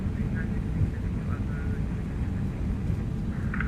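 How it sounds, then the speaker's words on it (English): A JetBlue Airbus A320neo jet airliner on its takeoff roll: a steady, loud low engine roar heard from inside the cabin, with voices speaking over it. "Alright, we're clear for takeoff"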